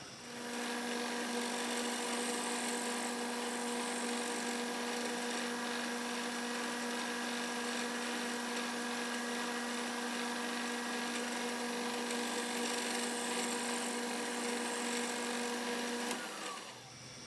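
A 3/4 inch milling cutter takes a light 2/1000ths pass in a machine shop, a steady loud whining hum with strong tonal harmonics that holds evenly before cutting off at the end.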